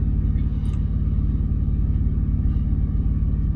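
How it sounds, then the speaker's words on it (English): A loud Cummins diesel truck engine rumbles steadily at idle, a deep, pulsing low drone heard close up and alone, with no talking. "This Cummins is so freaking loud."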